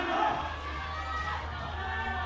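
Crowd noise swells steadily behind a climber at the Seoul 2022 bouldering semi-finals, a continuous roar of cheering and shouting that holds loud throughout.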